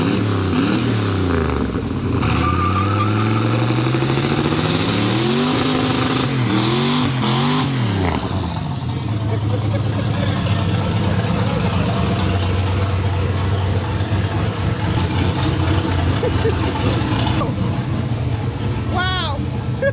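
A 1965 GMC truck engine revs up and down in repeated swelling sweeps, then settles into a steady, rumbling drone, loud and close throughout.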